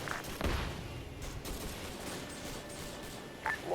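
Gunfire in the Arma 3 Vietnam-era game, with a couple of sharp distant shots standing out over a steady rumbling background of battle.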